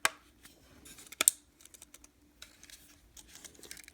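Small plastic pins snapping into place on the shell of an HO scale Atlas U23b Union Pacific model locomotive under repair, a scattering of close, light clicks and taps with a couple of sharper snaps, no talking.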